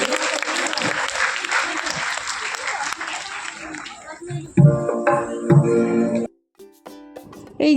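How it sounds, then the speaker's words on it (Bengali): Applause from an audience at a Rabindranath Tagore birth anniversary (25 Boishakh) tribute event, a dense, sustained clapping that thins into scattered claps and a few louder bursts before stopping abruptly near the end. "করতালি আশা করছি।"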